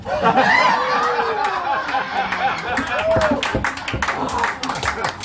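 Applause and scattered claps from an audience at the Roger Deitz memorial gathering at The Turning Point, mixed with laughter and lively chatter, with several sharp claps standing out near the end.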